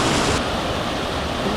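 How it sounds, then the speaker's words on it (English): Water spills down a cascade on a rocky Australian creek, giving a steady, loud, broadband rush with no breaks and no voices. "A cool cascade, another pool."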